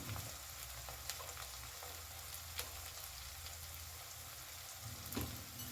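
Spice masala with turmeric, coriander and chilli powder fries in a pan with a faint, steady sizzle and a few soft utensil taps, quiet and without voices.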